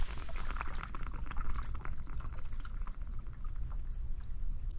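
Water drains from a pipe after the flow is shut off, a steady, close rushing and gurgling with a constant low rumble throughout and no voices.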